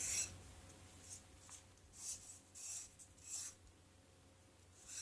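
A palette knife smears acrylic paint across a journal page, giving soft, quiet scraping strokes in several short bursts with pauses between them.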